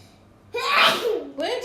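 A single loud, close sneeze bursts out sharply after a moment of quiet, followed by a brief voiced sound.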